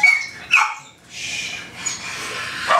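A dog being trained to stay calm around other dogs gives a few sharp barks, one burst near the start and another at the end, fairly close, with quieter noise between.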